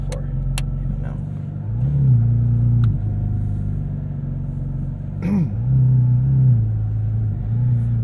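A 2023 Porsche 718 Cayman GT4 RS warms up at idle, a steady low engine drone heard from inside the car, with a few light blips in revs and occasional clicks.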